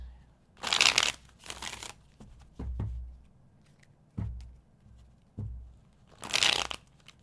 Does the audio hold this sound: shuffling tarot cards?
yes